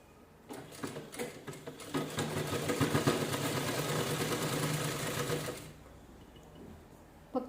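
A sewing machine stitches a cloth bag, starting up after a moment and running in a fast, steady mechanical whir for several seconds before stopping abruptly near the end.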